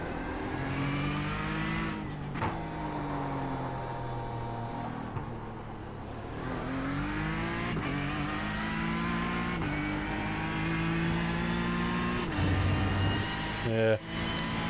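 A race car engine in the iRacing sim at Silverstone climbs through the revs toward the red line in repeated rising sweeps, each shift dropping the pitch before it builds again, steady and prominent throughout.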